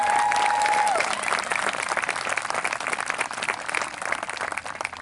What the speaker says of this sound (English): our Peekskill High School band and our City Singers a big round of applause